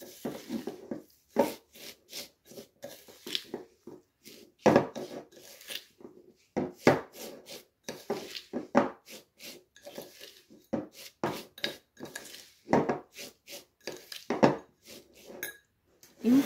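Raspberry and white chocolate entremet mixture being stirred in a bowl, with a run of irregular scraping and tapping strokes close up, steady and moderately loud, no voices.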